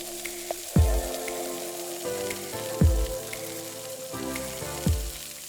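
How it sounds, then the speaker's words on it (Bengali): Chopped carrot and cabbage fry in oil in a pan for chow mein, a steady sizzle broken every couple of seconds by low thumps and swirling tones as the vegetables are tossed, close and moderately loud. "দিয়ে তেলের সঙ্গে এগুলিকে ভালো করে ভেজে নেব"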